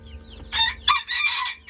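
A rooster crows loudly and close, one drawn-out call broken into bursts, with chickens clucking around it at a poultry farm selling foreign breeds.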